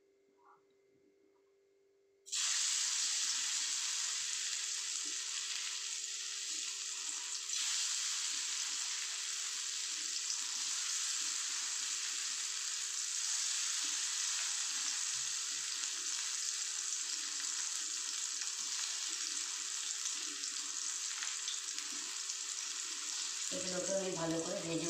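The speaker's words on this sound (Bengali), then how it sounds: "আরও যেগুলো আছে আমি সবটাকে এবার এক এক করে ভেজে নিই।" Lentil cakes (dhoka) fry in oil in a wok, making a continuous bright sizzle that starts abruptly after a quiet opening and stays steady and fairly loud, with a faint tone underneath.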